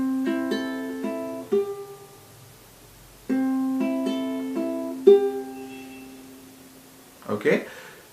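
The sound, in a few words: ukulele intro melody with plucked strings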